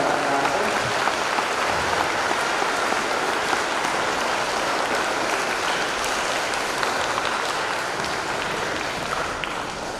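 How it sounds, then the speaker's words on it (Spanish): Children at a school gathering applaud in a dense, steady wash of clapping that holds at an even level for the full ten seconds, with no voices standing out. "Y los niños se están aplaudiendo"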